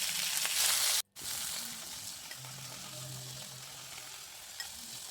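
Singhi fish and vegetables frying in a little oil, with a steady close sizzle that cuts out briefly, then resumes with a softer crackle and a low stirring hum.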